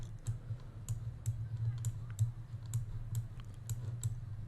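A computer mouse clicks repeatedly while dragging to rotate a 3D viewport on a website, with sharp, fairly regular close clicks over a steady low hum.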